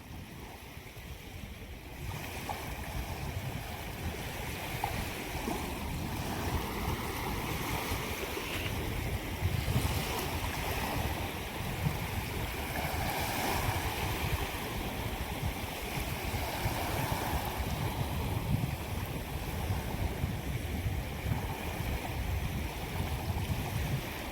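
Fishing boat under way on the sea near Velas, Mandangad, with a steady broadband rush of engine, hull wash and wind that holds evenly throughout and carries no voices.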